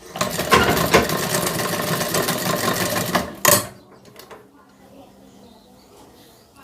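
Sewing machine stitching a child's fabric mask, a loud, close, continuous whir for about three seconds that stops abruptly, followed by faint handling noises.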